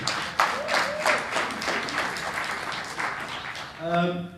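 Applause from a business conference audience, with a moderate spread of hand claps under and around a speaking voice, rising briefly near the end.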